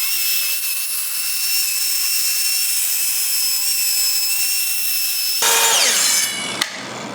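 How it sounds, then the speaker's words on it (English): A track saw spins up with a steady high whine, then bites into a tabletop and rips through it with a loud, rough cutting roar for the last couple of seconds, close by and alone. "Put my track saw on here, run the kerf, run a cut through here"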